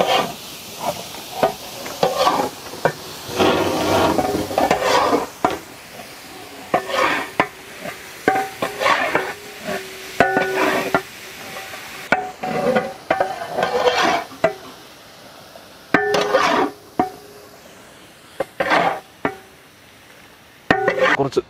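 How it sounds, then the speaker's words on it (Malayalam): Beef frying in a pan for a Kerala-style tapioca biryani, stirred with repeated scraping strokes over a soft sizzle, loud close-up bursts alternating with quieter gaps. "നമുക്ക് നമ്മുടെ ബീഫ് ഇട്ട് കൊടുക്കാം."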